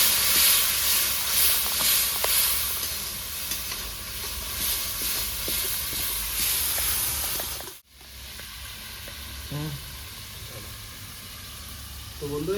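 Spiced masala for a Bengali kosha mangsho curry sizzles and steams in a pan after a splash of water is added, a steady loud hiss that drops sharply for a moment, then resumes with faint stirring clinks.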